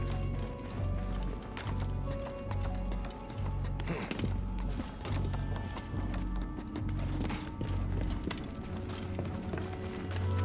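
Rhythmic hoofbeats of a galloping horse in the video game Assassin's Creed Origins, steady and continuous, mixed with game background noise and effects throughout.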